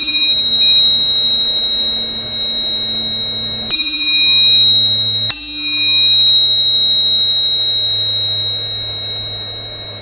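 Spurcycle and Rockbros bicycle bells ringing in turn: sustained, bright metallic rings with long decays, one struck and ringing out before a second sharp strike and another lingering tone, close and loud.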